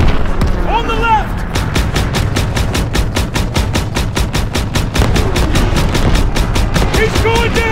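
Loud, sustained gunfire from Call of Duty's March 1945 Ludendorff Bridge crossing at Remagen, Germany: rapid rhythmic machine-gun bursts and rifle shots roll on without pause, with shouted voices cutting in at moments.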